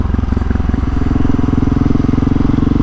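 A Husqvarna 701 Supermoto single-cylinder motorcycle with a loud exhaust runs inside a multi-storey car park, its deep, rapid pulsing throb steady and close, booming off the concrete.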